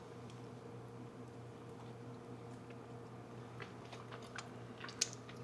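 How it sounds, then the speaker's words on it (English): Soft crunchy bites and chewing of pillowy keto bread with a butter-crisped top, faint and close, with small crisp crackles clustering toward the end over a steady low background hum. "We're gonna have a bite. They're very pillowy. It's a little crispy on top from the butter."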